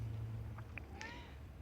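Outdoors by a water pump and garden tap, a cat gives a short, faint meow after a couple of tiny chirps, brief and distant over a low hum.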